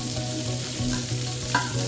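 Chana dal and urad dal fry in hot oil for a rava idli tempering, making a short, steady sizzle close by with light stirring.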